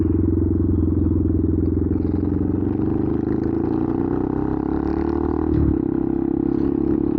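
Benelli TNT 125 motorcycle with an aftermarket exhaust, a loud, raspy small-engine burble that idles steadily close by, with a brief blip of the throttle near the end.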